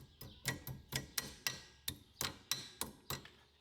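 A hammer taps a cotter key to bend it over on the rear axle hub of a Polaris Ranger 1000. About ten light, sharp metallic taps come in an uneven rhythm, close by and fairly quiet, with no talking.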